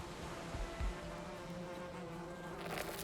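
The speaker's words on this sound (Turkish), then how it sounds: "Arılar saldırıyor." Faint, steady insect buzzing like bees droning in the background near a beehive in the video game Valheim, with a few soft thumps and rustles nearby.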